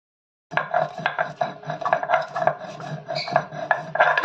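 Whole spices rattle and scrape against a metal pan as they are dry roasted and stirred, a busy, continuous clatter of small hard pieces.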